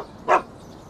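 A single short dog bark rings out in a town setting in the video game Shadow of Destiny, loud and close against a quiet background.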